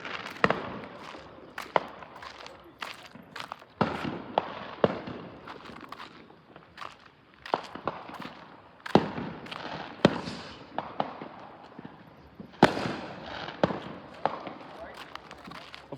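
Distant fireworks popping and cracking in a backyard at night, a steady run of sharp bursts scattered irregularly over about sixteen seconds, fairly faint and far off, with no voices.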